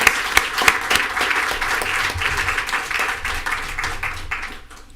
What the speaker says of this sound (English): Let's give Anthony a round of applause for 20 years of service.